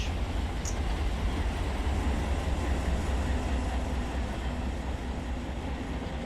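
A train rolls along the rails in the Run 8 train simulator game during yard work, producing a continuous low rumble and steady mechanical drone with no talking.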